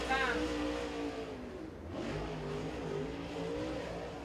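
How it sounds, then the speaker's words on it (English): Race car on a qualifying lap at 411 Motor Speedway in the Southern Nationals, engine note droning steadily and rising at the start, heard under continuous trackside commentary. "final qualifier here tonight at FK Rodians qualifying down the main straightaway to lap number one"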